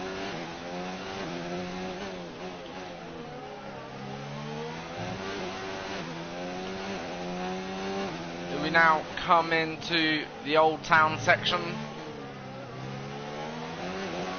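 Formula 1 car engine in the F1 2019 racing game, a steady high-pitched whine at speed along a long straight, then rising and falling in sharp revving bursts as gears shift, with someone commentating over it throughout.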